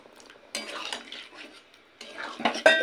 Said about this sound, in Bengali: তো সমস্ত কিছু আবার ভালো করে মিশিয়ে নেব।